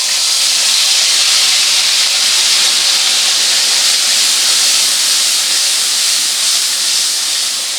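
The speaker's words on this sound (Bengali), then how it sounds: "এরপরে এর মধ্যে দিয়ে দেবো আদা আর কাঁচা লঙ্কার পেস্ট" Ginger and green chili paste sizzling in hot oil for niramish doi potol, a loud, even, steam-like hiss that holds constant throughout with no breaks.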